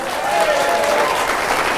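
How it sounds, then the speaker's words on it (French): A comedy club crowd breaks into loud, sustained applause, dense clapping with scattered whoops and a voice briefly calling out over the noise. "Crime, on l'applaudit."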